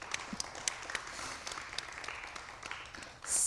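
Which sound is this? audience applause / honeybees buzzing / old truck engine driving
audience applause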